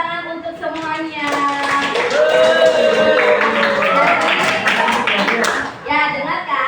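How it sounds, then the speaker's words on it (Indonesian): Students in a science classroom clap together, a short burst of claps and taps mixed with children's voices and talk, fairly close and loud throughout. "Tepuk tangan untuk semuanya."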